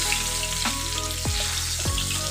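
Potatoes for a Bengali mutton aloo jhol fry steadily in hot oil, a continuous broadband sizzle with a couple of brief swooping utensil or stirring sounds over a low hum, no voices.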